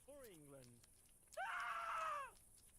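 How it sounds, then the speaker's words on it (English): A video game character in Ground of Aces screams while running away from a spider: a voice sliding down in pitch, then a louder, sustained high-pitched yell lasting about a second. "Listen to him screaming, too."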